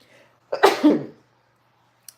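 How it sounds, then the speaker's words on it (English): One sharp, close sneeze, a quick gasping intake followed by a burst, then silence with a faint click afterward. "I'm about to sneeze."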